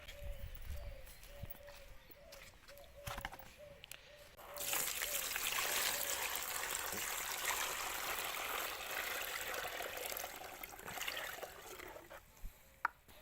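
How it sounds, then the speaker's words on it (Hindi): Water pours into a container to give a goat a drink, a steady close trickle and splash that starts abruptly and runs for several seconds after a quieter stretch with faint taps. "इसमें इसमें इसमें पानी डालेंगे और पिला देंगे।"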